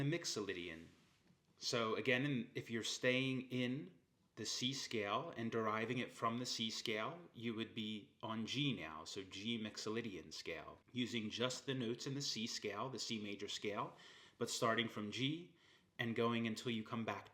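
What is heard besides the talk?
No distinct noise like a dog, phone or traffic.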